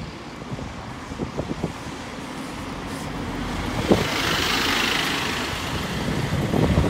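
Buses roll into the new Exeter bus station, giving a low engine rumble that builds as one draws closer, with wind buffeting the microphone and scattered thumps over a steady outdoor background.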